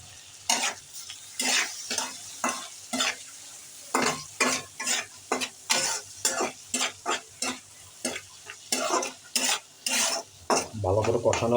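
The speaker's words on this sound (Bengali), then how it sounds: "দিয়ে ভালো করে আমি এই মাছটাকে কষাবো।" Washed prawns stir-fried in a pan, loud repeated scraping strokes of a spatula against the pan in an irregular rhythm over a faint sizzle, close and without talk.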